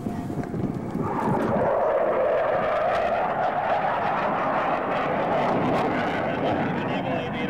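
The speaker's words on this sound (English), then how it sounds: "Coming downward in the half cubanate and rolls the aircraft upright." Canadian Forces Snowbirds jets perform aerobatics at the 2003 Kern County Airshow, heard as a steady, moderately loud engine roar that swells after a quieter start, mixed with wind noise.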